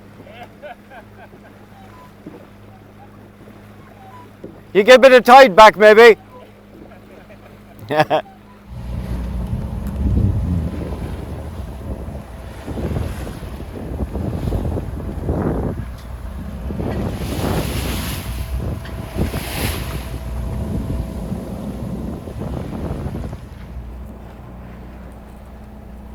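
Wind buffets the microphone as water rushes and splashes past a moving sailboat at sea, steady and loud, with someone speaking briefly near the start.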